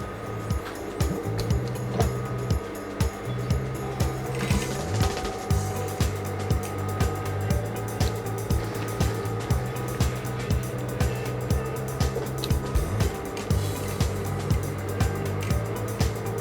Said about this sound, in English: So I will run a stitch 2 or 3 times here and also at the upper parts on the waistline.